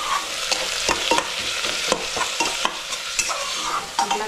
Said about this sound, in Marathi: आपला कांदा चांगला परतायला पाहिजे, गोल्डन ब्राऊन झाला पाहिजे